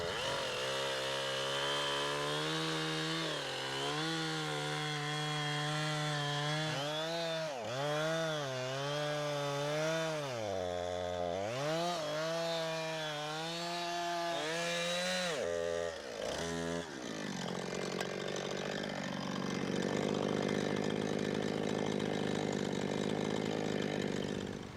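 A chainsaw cuts into hay in a garden, its engine holding a steady whine, then bogging and revving in wavering surges as it bites through the bale, loud and close throughout.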